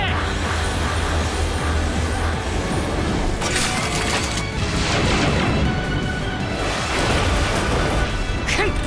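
A huge explosion tears through a pirate mecha in an animated space battle, with continuous roaring, crashing blasts and debris bursts layered thickly throughout, loud and sustained with several sharper surges.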